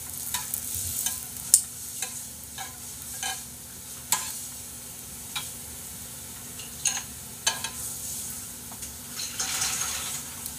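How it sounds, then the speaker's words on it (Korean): Pork belly sizzles on a grill with a soft, continuous fry and scattered sharp crackles and pops, heard close and fairly quiet with no talking. "지글지글하는 게 보일 거야."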